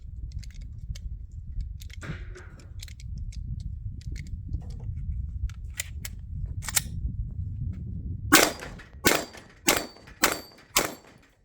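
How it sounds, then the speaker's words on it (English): Five sharp pistol shots from a Glock 45 with a red dot ring out in quick succession at a plate rack, each loud crack evenly spaced, after a stretch of quieter rustling and faint clicks. "Let's do 5 rounds on the plate rack"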